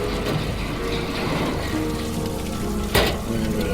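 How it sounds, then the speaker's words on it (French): Heavy, deafening rain pounds in darkness as a steady, dense roar that fills the whole clip, with one sharper, louder burst near the end. "La pluie assourdissante battait les ténèbres."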